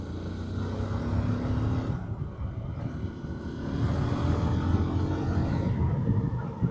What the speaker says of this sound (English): Now we got scooter traffic.